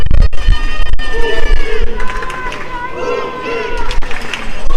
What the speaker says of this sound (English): The Venezuelan crowd. They start to rile up here.